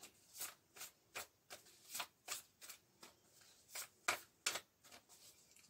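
Cards from a law-of-attraction deck are handled and shuffled up close: a steady series of about a dozen short, crisp riffling swishes in a quiet room, with no talking.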